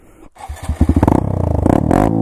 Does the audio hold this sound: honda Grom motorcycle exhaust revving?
yes